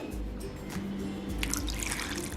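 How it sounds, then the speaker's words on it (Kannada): Water trickles and drips into freshly ground paste set in a sieve over a kitchen vessel, a soft, steady pouring sound heard alone with no talk. "ಇನ್ನು ಸ್ವಲ್ಪ ನೀರು ಹಾಕ್ಕೊತಾ ಇದ್ದೀನಿ"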